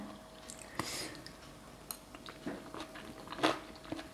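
Someone bites and chews crunchy, chewy boiled pig ear salad, a spicy Thai dish, with a few sharp crunches and soft wet chewing sounds close to the mic and no talk.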